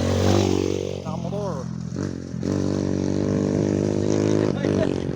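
Motorcycles passing during a town mountain bike race in Sta. Lucia: loud continuous motor drone with shifting engine pitch, nearby voices talking over it.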